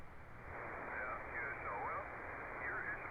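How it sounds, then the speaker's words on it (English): An HF ham radio receiver gives out a steady wash of white-noise static, band-limited and hissy, with faint wavering whistle tones sliding through it, constant and fairly loud from start to finish. "So lots of white noise."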